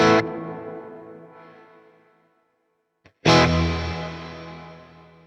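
Electric guitar through a reverb pedal with its low-pass filter adjusted to cut the reverb's high end: a loud strummed chord rings out in a long darkening decay to silence, then a second loud strum swells and trails off.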